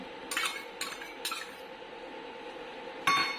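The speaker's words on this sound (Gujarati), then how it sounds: "ઘી થોડુંક ઉકળે પછી આ ખજૂરને છે ને આમાં આપણે સાતળી લેશું." Chopped dates sautéing in ghee in a pan, with three quick metal spoon scrapes and taps against the pan followed by one more clink, over a faint low sizzle, close and quiet.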